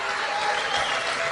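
A big rally crowd applauding and cheering, a loud continuous roar of clapping with voices mixed in, filling the whole short moment.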